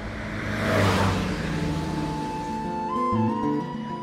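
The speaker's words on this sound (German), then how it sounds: "dieses Auto fährt gerade vorbei" A car swells past at moderate distance, its engine whir rising to a peak and then fading, with a faint tonal hum lingering toward the end.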